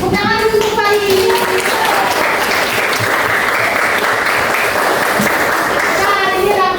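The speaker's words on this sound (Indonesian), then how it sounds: "Tepuk tangan dulu untuk Baik" Classroom applause from students in a religious education lesson, loud and continuous with children's voices and chatter mixed in throughout.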